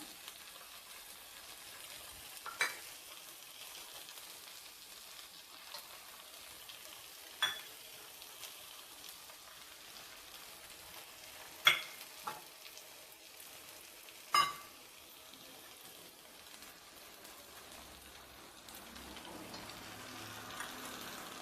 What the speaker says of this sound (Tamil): இது இப்போ நான் முட்டையை ஊற்றுறேன்.